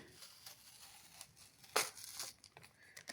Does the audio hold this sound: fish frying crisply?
no